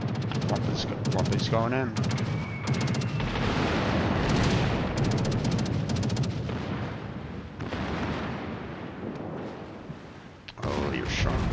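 Naval artillery fire from battleships in the World of Warships game, a dense, continuous barrage of booming shots and blasts at close range, with a player speaking over the gunfire throughout.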